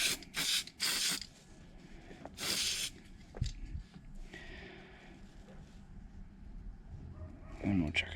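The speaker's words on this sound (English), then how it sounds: "Let's get this little spray." Several short hissing bursts of an aerosol spray can, close by, cleaning a Honda Z50R dirt bike carburetor, separated by pauses and light handling noises.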